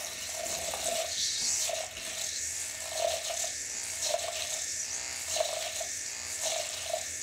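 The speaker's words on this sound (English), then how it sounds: "So I'm just gonna go ahead and rinse it one more time" Makeup brush being rinsed and swirled in a brush cleaner, giving a steady watery, whirring hiss with a soft pulsing swish repeating about every second, close and continuous with no talking.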